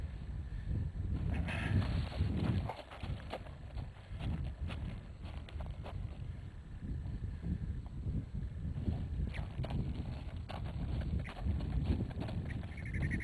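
Steady clopping of horse hooves on hard ground, continuous and fairly close, with a low rumble of movement throughout.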